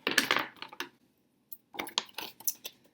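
Scissors snipping through paper to cut out a puppy nose shape for a craft, a few crisp close cuts in two bursts separated by a brief pause.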